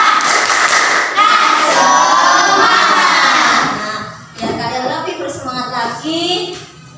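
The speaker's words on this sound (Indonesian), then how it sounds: "coba kita tepuk semangat" A school class claps hands together in a quick rhythmic pattern while children chant loudly along with it, the claps sharp and close, ending with a short burst of group shouting.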